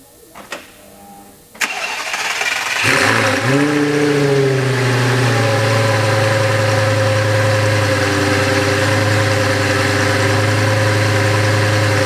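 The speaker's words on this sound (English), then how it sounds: "On the rear of the Gallardo here, you're going to find the 5-liter V10 engine." A 2004 Lamborghini Gallardo with e-gear and a rear 5-liter V10 cranks after a couple of clicks, fires loudly with a brief rev, then settles into a steady, close, throaty idle.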